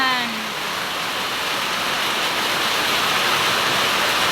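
Steady rain pours down in a dense, unbroken hiss that stays even and fairly loud from start to finish, with no voices over it.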